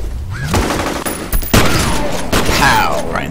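Rapid bursts of gunfire from the first-person shooter FEAR, loud and close, with echoing shots overlapping in quick succession and a voice talking underneath.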